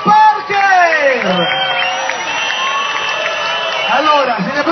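A live audience in Pescara cheers and shouts loudly for a Frozen tribute concert, with many high voices whooping and calling out together in a continuous, close crowd roar.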